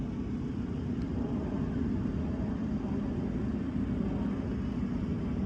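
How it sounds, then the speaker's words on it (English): A plane in the evening sky passes over a rooftop, a steady low broadband roar that holds at an even level throughout, distant and alone. "looking at that plane in the sky"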